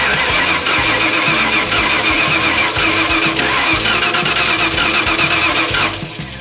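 Starter cranking a 1995 Ford F-150 engine, a loud close rhythmic chug-chug of the starter motor turning over repeatedly for about six seconds without catching, then stopping.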